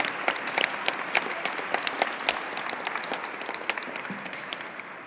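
An audience at an MLK commemoration event applauds itself, a moderate, fairly distant patter of many hands clapping evenly and fading slightly toward the end.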